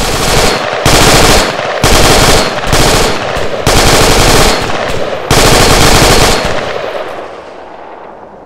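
Sustained automatic gunfire in the Arma 3 video game, loud and close, coming in long repeated bursts with brief gaps before trailing off into an echoing fade.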